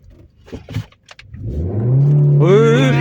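A learner driver's car engine starts after a few faint knocks and voices, then revs up loudly and steadily as the clutch is released, with a rising whine near the end.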